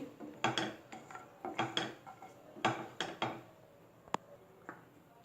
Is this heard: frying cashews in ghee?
yes